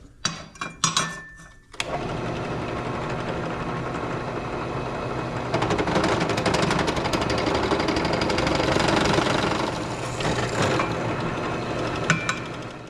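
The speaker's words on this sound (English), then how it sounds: "I'm just gonna drill through it and then just mark the holes." A few knocks and clatters, then a power drill whines steadily for several seconds as it bores through a metal spacer for a grab handle mount, loud and close, ending with more clanks.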